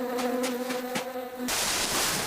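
Bees buzzing inside a hive, a steady droning hum with pulsing beats that shifts abruptly into a broader, hissier swarm noise partway through.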